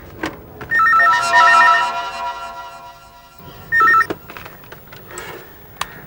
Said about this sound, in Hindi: लगता है उसी का फोन है।